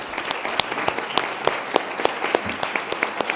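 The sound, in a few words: audience applause after a panel discussion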